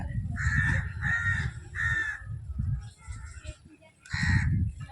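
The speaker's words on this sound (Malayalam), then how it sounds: "വർത്താനം പറയണതിൻ്റെ ഇടയിൽ കാക്ക വന്നാണ്ട്" Several loud, harsh crow caws close by in quick succession, then a pause and one final caw.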